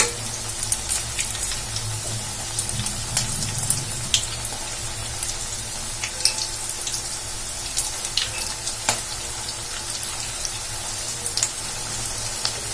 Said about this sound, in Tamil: இப்ப எல்லா பக்கமே ஆயில்ல நல்லா ஃப்ரை ஆயிடுச்சு.